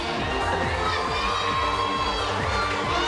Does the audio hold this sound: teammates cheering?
yes